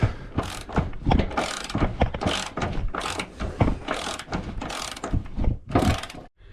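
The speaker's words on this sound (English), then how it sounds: "Use the spanner" A spanner ratchets to undo a nut, giving repeated bursts of sharp clicking, close and fairly quiet, with short pauses between strokes and no talking.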